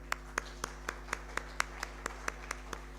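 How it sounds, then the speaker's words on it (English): Steady applause from a seated audience at an indigenous seeds and food culture harvest fair, heard as regular sharp claps about four times a second, moderately loud and evenly paced, with no voices over it. "let us welcome him with a round of applause"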